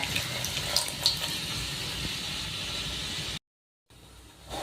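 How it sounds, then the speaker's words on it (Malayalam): Red wine is poured over a low flame into the same hot pan used for a beef steak, making a steady hiss of liquid that cuts off abruptly into silence before a quieter hiss resumes. "സ്റ്റീക്ക് ഉണ്ടാക്കിയ അതേ പാനിലോട്ട് തന്നെ നമുക്ക് വൈൻ ഒഴിച്ചു കൊടുക്കാം"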